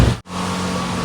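A car engine runs after its battery terminal is fixed: a loud, steady, close-up rumbling hum with a brief dip at the start, then an even drone.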